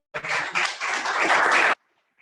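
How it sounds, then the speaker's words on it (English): A brief burst of applause from a Toastmasters meeting audience, roughly one and a half seconds of close, dense clapping that cuts off abruptly into silence. "Give a round of applause."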